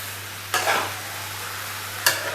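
Boiled cucumber (kankur) being stirred into moong dal curry in a pan: two brief scraping stirs about a second and a half apart, over a steady low hum with no talk.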